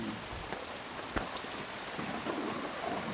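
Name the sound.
heavy rain falling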